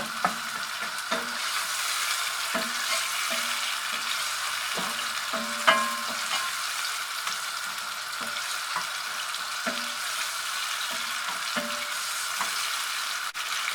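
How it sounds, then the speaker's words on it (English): Tomatoes cook in a pan under a low, constant sizzle, with a spoon scraping and tapping the pan at irregular intervals. "Our tomato is doing well, it's cooking"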